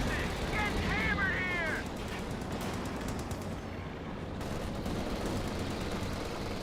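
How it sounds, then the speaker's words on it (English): Gunfire and tank fire in the Company of Heroes 2 video game: dense rattling shots and booming blasts, with a voice talking over the battle noise throughout. "Rock squad getting suppressed by the SMG-42"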